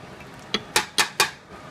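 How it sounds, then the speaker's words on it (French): A metal kneading blade and onions go into a Moulinex Companion food processor bowl, giving four sharp, close clinks and clatters in quick succession with no talking. "dedans je vais mettre le couteau pour pétrir et concasser. Je vais mettre d'abord mes oignons."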